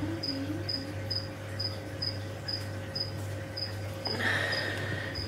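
Feeder crickets chirp in a spider enclosure for Australian bird-eating spiderlings, a steady, regular train of short high pulses repeating close by over a low hum, with a brief rustle near the end.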